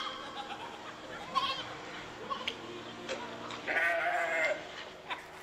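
A voice mimics a goat's bleating in a few short, wavering bursts, set among a speaker's talk and some light laughter.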